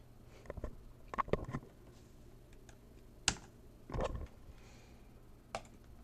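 Sparse keystrokes on a computer keyboard, a few quick clusters of clicks and isolated taps spread over several seconds, close and fairly quiet against a low background hum.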